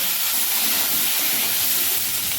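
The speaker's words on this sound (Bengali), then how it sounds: "তেলে আলুগুলোকেও হালকা করে ভেজে নেব।" Potatoes fry in hot oil in a kadai, giving a loud, steady, dense sizzle that holds evenly throughout without any voices.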